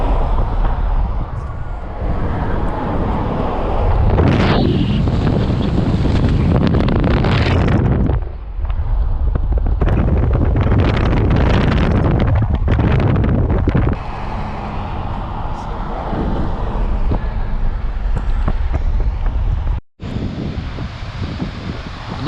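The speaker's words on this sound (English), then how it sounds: "Another huge waterfall." A huge waterfall in a burned canyon, swollen and murky after rain, thunders as a loud, continuous roar with gusty surges throughout.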